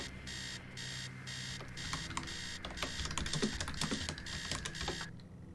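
In the video game Stories Untold, an alarm rings in repeating electronic bursts, loud and insistent, with clattering and thumping noises building beneath it before it cuts off near the end.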